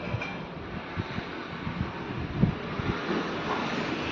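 Cold wind blowing outdoors, a steady broadband rush buffeting the microphone with low rumbling gusts and no voices.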